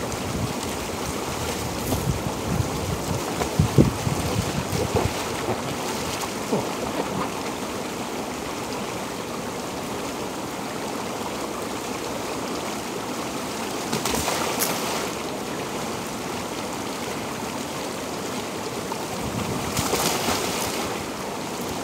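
Ocean waves, a broad continuous wash of surf with wind, swelling into louder crashes now and then over a long stretch, with no talking.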